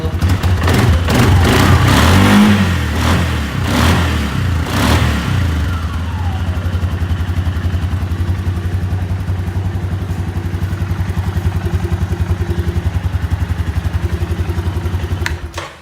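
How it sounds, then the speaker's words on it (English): A 2017 Suzuki King Quad 400 ATV engine, warm and not run for a few days, catches with a loud clattering rev, then settles into a steady, close idle. "As you see, it starts right up."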